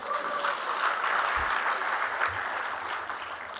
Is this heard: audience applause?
yes